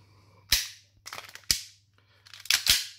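An EMG STI Combat Master airsoft pistol fires a few sharp, close cracks about a second apart, each with a quick mechanical rattle, and the slide locks back. A faint low hum sits under the shots, with no talking.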